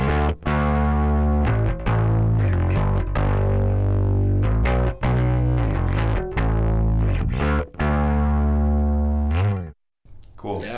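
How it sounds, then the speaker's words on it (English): Bass guitar played through a rig with an AGS harmonics effect switched on, producing loud, distorted, chorus-thickened notes in a choppy rhythm of repeated attacks with brief gaps, ending in a sudden cutoff. "AGS is essentially harmonics, right? It's adding a little bit more up in the spectrum in harmonics, and so you'll hear it as soon as it turns on."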